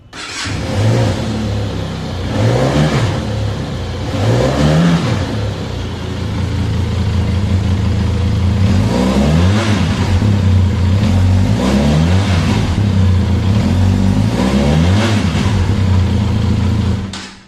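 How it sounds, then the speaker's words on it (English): A Benelli 502C 500cc parallel twin cruiser motorcycle engine rumbles nearby and revs repeatedly, rising and falling in several loud bursts over a steady idle. "now let's crank up this motorcycle and hear the exhaust note"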